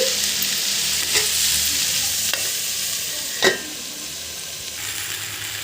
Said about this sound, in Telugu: దొండకాయని ఈ విధంగా బాగా రోస్ట్గా ఫ్రై చేసుకోవాలి